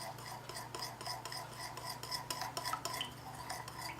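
Salad dressing for a wilted ramp salad is stirred in a bowl, a utensil scraping and clinking in quick repeated strokes, close and moderately quiet, with no talking.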